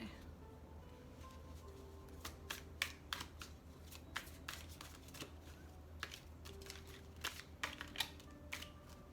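A tarot card deck being shuffled by hand, producing faint, irregular bursts of soft card riffles and clicks spread across several seconds, quiet and close against a low hum.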